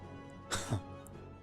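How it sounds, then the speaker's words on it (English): A game character in Baten Kaitos gives a short, awkward cough, two quick bursts close together in a quiet scene, with no talk over it. "Coughs awkwardly."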